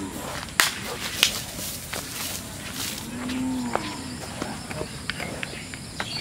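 A cow lets out a single low moo midway through, close by, amid outdoor farm ambience with a few sharp cracks and snaps, and faint voices in the background.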